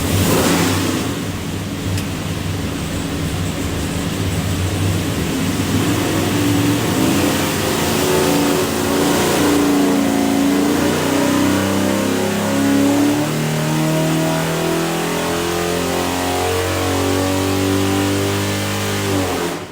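A 489ci big block Chevy with a hydraulic roller cam, Edelbrock manifold and Quick Fuel carburetor roars loudly on a dyno, a sustained pull whose deep, rough engine note climbs steadily in pitch throughout.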